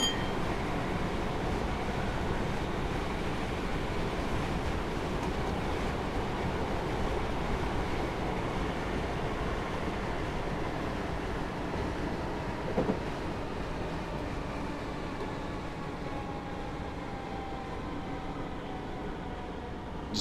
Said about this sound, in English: I'm going to apply the brakes for our stop as we come up on this next signal